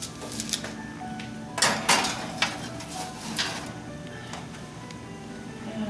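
Two baking pans of peanut butter dog cookies go into a 350-degree oven, with a few metallic clanks and scrapes as the pans slide onto the racks.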